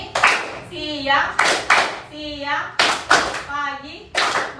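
An Indonesian classroom group plays a chanted clapping game, sharp group claps landing roughly every second in a steady rhythm and alternating with children's sung chant.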